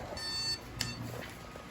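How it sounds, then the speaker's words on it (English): A home alarm clock beeps in a short run of high, even tones, fairly quiet against a low room hum, with one sharp click partway through. "The alarm went off."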